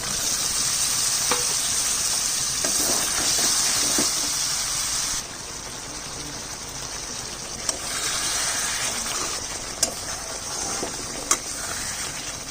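Paneer tipped into a frying pan of spiced masala with sugar and stirred, a steady close sizzle that drops slightly partway through, with occasional sharp clinks of a utensil against the pan and no talking.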